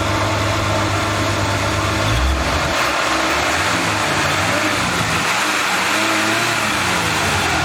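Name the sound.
1976 Chevy Nova straight six engine revving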